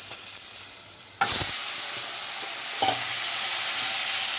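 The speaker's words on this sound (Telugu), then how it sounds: "పచ్చిమిర్చి వేపుకుంటున్నాం. కొంచెం ఆయిల్ వేసుకున్నాం." Green chillies crackle loudly in hot oil with a dense, continuous sizzle that jumps in volume as they hit the pan, with a brief stir or scrape partway through.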